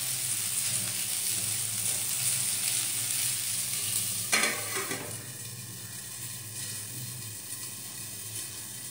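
Vegetable khichuri frying in a pan with very little oil gives a steady, close sizzle, with a short clatter of stirring in the middle and the sizzle carrying on afterwards.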